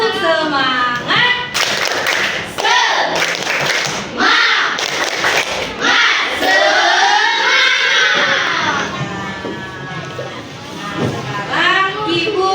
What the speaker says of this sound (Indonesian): Ayo sama-sama tepuk semangat.